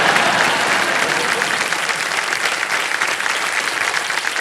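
A studio audience at the Indian quiz show Kaun Banega Crorepati applauds loudly and steadily, a dense wash of clapping that holds throughout with no voices over it.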